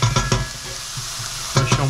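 Sliced onions sizzling in a very hot pan while a utensil stirs them, scraping bursts at the start and end over a steady frying hiss.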